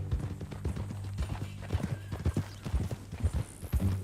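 Steady clip-clop of horse hooves on hard ground in the video game Red Dead Redemption 2, close by, with a brief whinny-like tone underneath.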